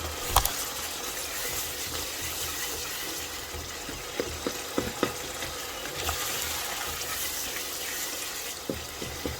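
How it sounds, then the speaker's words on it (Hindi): A spoon mashes tomatoes in masala frying in a pan for a Lahori beef shank bong dish, with a steady close sizzle and scattered scraping and clinking from the spoon. "इस तरह स्पून की मदद से टमाटर को और मैश कर लेंगे।"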